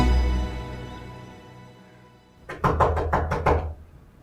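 Five quick, firm knocks on a door ring out close by in a single burst after a low, quiet room hum.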